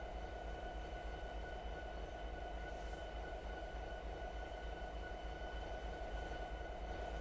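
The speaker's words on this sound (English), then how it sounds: "drive the locomotive through the switch" A locomotive rumbles through a track switch in the Train Sim Classic game, a steady rolling drone with faint rail noise throughout and no pauses.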